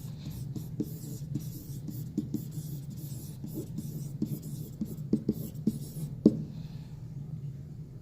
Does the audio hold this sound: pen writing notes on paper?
yes